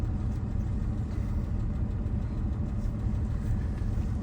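Porsche 997 engine idling after a cold start, a steady low rumbling idle heard close up and continuous throughout, with no voices.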